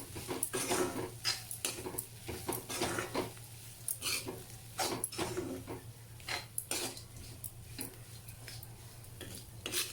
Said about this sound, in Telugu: ఇలా పొడి పొడిగా వేయించేసుకోండి తడి లేకుండా చూసుకోండి